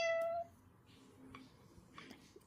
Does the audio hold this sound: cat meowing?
yes